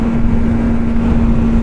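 BMW S1000R motorcycle engine running steadily with a strong, constant hum, close and loud, on a ride with the rev limiter still active.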